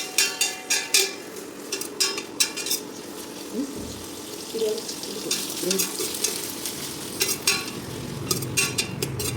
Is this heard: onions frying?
yes